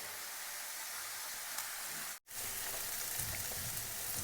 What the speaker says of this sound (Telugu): ఇలా కొంచెం టైం అయితే మనం మీడియం ఫ్లేమ్లో ఫ్రై చేసుకుందామండి